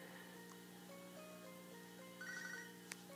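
A phone ringtone from the Pokemon HeartGold video game, a short bright chiming melody of rising and falling tones, quiet over a steady game music backdrop in Ilex Forest.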